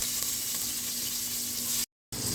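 Onions fry in a pan after garlic, giving a steady close sizzle throughout, cut by a short gap near the end, with no voices.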